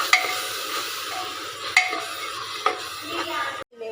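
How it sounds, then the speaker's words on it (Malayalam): A spoon stirs beef curry masala in a frying pan, giving gentle scraping strokes with a few clinks against the metal over a soft background sizzle. "നന്നായി വഴറ്റുക."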